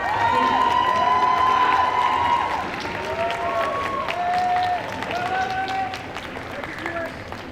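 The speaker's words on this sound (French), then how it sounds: "Et on les applaudit encore une fois bien bien fort." A convention audience at a singing and dance contest applauds the participants, dense clapping with some cheering that fills the whole stretch, strongest at first, under a voice speaking through it.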